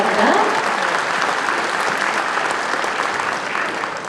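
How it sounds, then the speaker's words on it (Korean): A large crowd at a Seogwipo political party report meeting breaks into loud, sustained applause, a thick, even roar of clapping that tapers only slightly by the end. "큰 박수로 서로를 사랑해 주시기 바랍니다."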